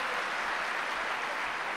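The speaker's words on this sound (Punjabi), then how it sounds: "ਫਿਰ ਤਾੜੀਆਂ ਨਾਲ ਸਵਾਗਤ।" A concert audience at a classical Indian music festival claps in welcome for arriving tabla and harmonium musicians, a continuous, fairly distant wash of applause with no voices on top.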